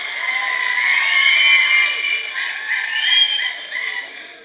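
Crowd at a film pre-release event cheering and clapping for the whole film team, a loud swelling roar with whoops that peaks and ebbs over several seconds.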